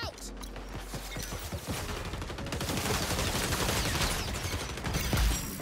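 A thrown frag grenade bursts in the online shooter XDefiant amid a dense, continuous clatter of rapid gunfire and mechanical clicks, with a heavier low thump landing near the end.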